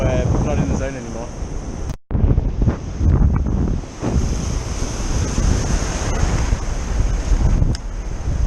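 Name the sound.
ocean waves crashing on atoll shore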